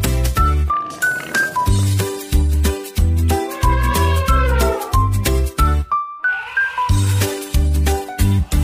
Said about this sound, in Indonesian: Lihat di sana ada kucing meong meong, dia bersuara